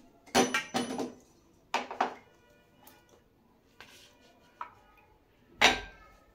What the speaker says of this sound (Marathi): तर आता मी इथे गूळ कट करणार आहे